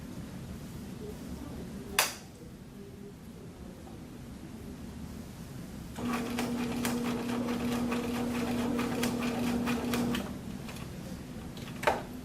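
A sewing machine stitches a corner seam in fabric, running in a quiet rapid chatter for about four seconds, framed by soft clicks before and after.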